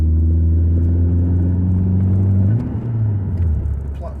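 A Saab 9-3 Turbo cruises at motorway speed around 2000 RPM in a high gear, giving a steady low engine drone and road rumble that dips slightly near the end; no one speaks.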